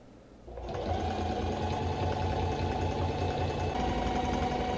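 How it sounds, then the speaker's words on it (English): A sewing machine starts up and runs steadily while stitching kimono body panels, a continuous close whirring hum with no talk. "Sewing it all the way up to the end."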